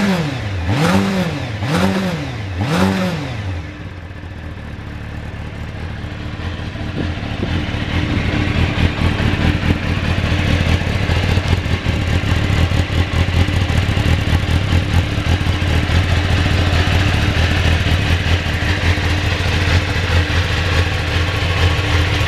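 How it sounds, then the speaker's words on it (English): A motorcycle with a standard exhaust revs in three sharp throttle blips, then settles into a loud, steady, rising engine roar close by, with no voices. "Just flip the throttle so you can hear that exhaust."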